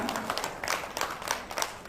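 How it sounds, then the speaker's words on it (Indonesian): Audience applause at a Jakarta company event for PT True Life Empire, a dense patter of many hands clapping at moderate volume and fairly far off, steady for about two seconds. "Berikan tepuk tangan dulu dong untuk PT True Life Empire"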